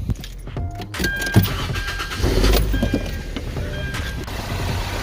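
A 2009-13 Hyundai Santa Fe is cranked and starts after keys jangle, the starter whirring briefly before the engine catches and settles into a steady idle close by.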